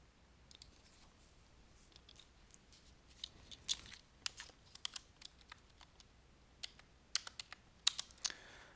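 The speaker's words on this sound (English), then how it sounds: "I'm just going to write that in the calculator" Soft, irregular clicks of keys being pressed on a calculator as exact numbers are entered, faint and close-up over a quiet background hiss, with no talking.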